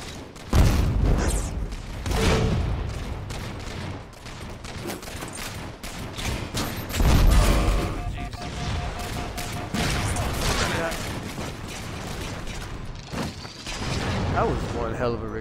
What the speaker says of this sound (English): That was one hell of a ricochet